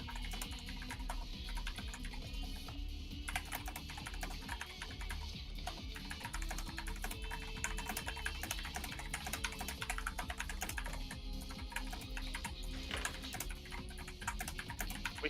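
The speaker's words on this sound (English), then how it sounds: "We should have Zeke and Vivi do like a long typing contest to see if we can tell which is which" Rapid typing on a computer keyboard rattles continuously, with dense, fast keystrokes and occasional louder clacks, steady and close throughout with no talking.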